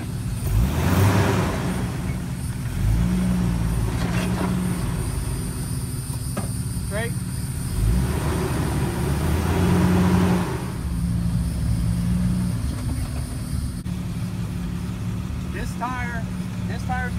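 A Jeep Wrangler TJ grinds slowly over rocks at an off-road ranch in Wildwood, Florida, its engine a steady low drone with mild revving, while people talk nearby.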